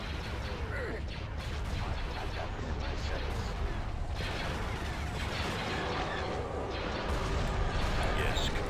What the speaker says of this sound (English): Bombs deployed.